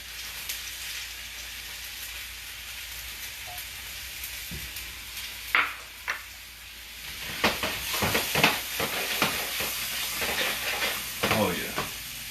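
Onion frying in a pan gives a steady sizzling hiss, then a burst of louder crackles and clattering stirring strokes in the second half, close and irregular, with no clear talking.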